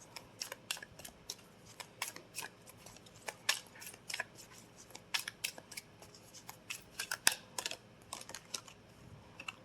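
Oracle cards are shuffled with quick, sharp flicks and riffling snaps that come close and fairly crisp in irregular bursts, with no voice.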